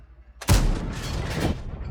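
A tank gun fires in World of Tanks as the Turtle Mk1 takes a shot, a single loud, close boom that rolls into a rumbling decay lasting over a second.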